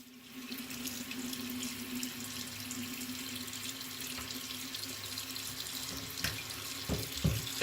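Tap water runs steadily into a sink to soak a shaving brush, a constant close splashing stream with a few drips and light handling knocks near the end.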